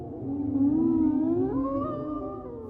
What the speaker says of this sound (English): came a louder howl of wolves.